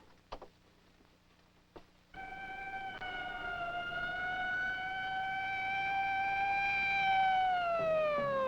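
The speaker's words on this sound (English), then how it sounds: "Ambulance?" A single ambulance siren wails in one long, steady rising tone that swells in loudness over several seconds, preceded by a couple of sharp knocks in a quiet room.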